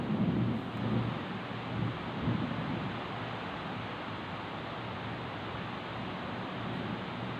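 Steady roar of heavy rain and wind with low rumbles of thunder rolling in the first few seconds, then a continuous downpour.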